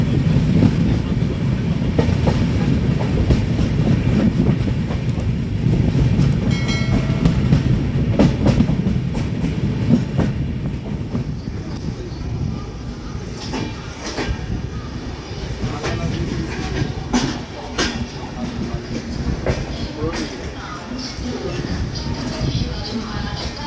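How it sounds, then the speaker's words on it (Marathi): Jan Shatabdi passenger train running on the Konkan Railway, heard from inside as a continuous loud rumble with rhythmic clicks and clacks of wheels on rail joints, and occasional sharper rattles. "चला आता आपली ट्रेन आली आहे ती पनवेल स्टेशनला"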